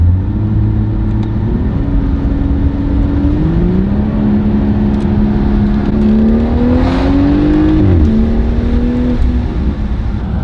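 A manual-transmission car with a ZF 8-speed gearbox revs hard through a downshift, engine pitch rising and dropping in steady steps under constant road noise from inside the cabin, loud and continuous.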